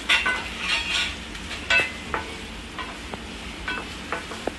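Two large onions being stir-fried in a pan until brown for a quick chicken gravy, with a soft continuous sizzle broken by the scrape and clatter of a spoon stirring at irregular intervals, close and with no talk.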